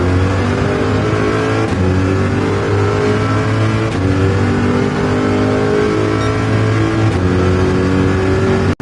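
A 5.5-litre Corvette C7 race car in Gran Turismo 7, its engine howling loud and steady at high revs, with shifts and short dips in pitch as it drives hard through a lap.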